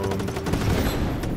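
Rapid gunfire in Just Cause 3, a dense, loud volley of shots fired without a break for over a second.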